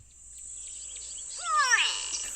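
A go-away-bird, named for its call, gives a short series of descending nasal cries that rise in loudness toward the end, heard fairly close over a faint steady background hiss.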